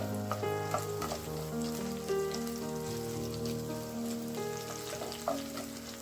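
Pieces of garlic and ginger fry in ghee for a dal khichdi tadka, giving a faint, continuous crackling sizzle with scattered small pops, like light rain on a surface.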